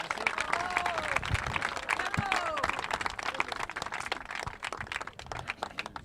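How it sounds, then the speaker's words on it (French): Audience applause for a sculptor at an outdoor festival, a dense sustained clapping from a crowd close by with an announcer's voice speaking over it. "Bonne main d'applaudissements encore,"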